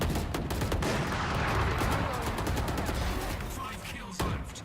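Rapid automatic fire from the Phantom rifle in the shooter game Valorant, a dense stream of loud shots that runs nearly unbroken through the clip, with a voice talking faintly underneath.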